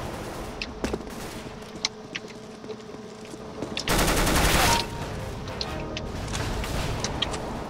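Gunfire in Counter-Strike: Global Offensive deathmatch, scattered single shots and short bursts, with one dense loud automatic burst in the middle and more sporadic shots after.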